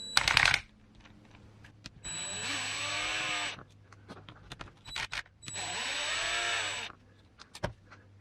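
Power drill running in two sustained bursts of about five seconds each, backing screws out of an axle casing, with loud whirring that winds up and down and clicks and handling noises between the bursts.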